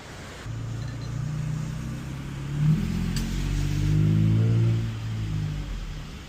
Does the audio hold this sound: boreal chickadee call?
no